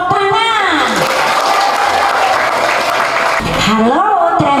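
Clapping from an audience at a village anti-human-trafficking simulation, a broad wash of hands under a voice that starts and ends the stretch, with musical tones rising and falling around it.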